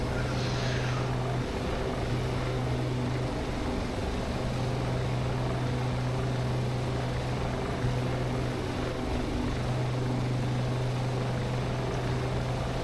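A Shergood S64 helicopter flies at high weight in a video game, its rotor and engine producing a steady, loud drone with a throbbing low pulse throughout and no voices.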